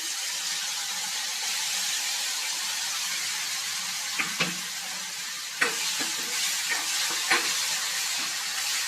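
Ground masala paste frying with onions in a pan, a soft steady sizzle with occasional stirring scrapes and clinks, alone without talk.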